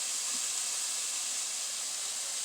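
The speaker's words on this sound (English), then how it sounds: "Pasta water's boiling, so we're going to add some salt" Pasta water boils in a pot as a soft, steady hiss of steam and bubbling, faint and unbroken with no voices.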